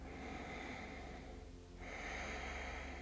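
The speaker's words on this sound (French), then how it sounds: "Encore, j'inspire et j'expire." During a yoga session, steady breathing in and out is audible and close, with a soft continuous airy rush, a brief pause near the middle, then the flow resumes.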